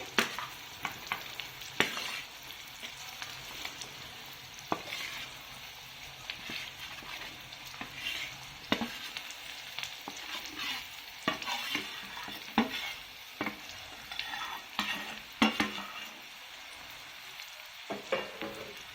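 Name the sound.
stirring bottle gourd frying in a pan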